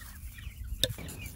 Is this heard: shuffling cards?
no